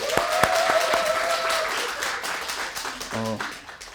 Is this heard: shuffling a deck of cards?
no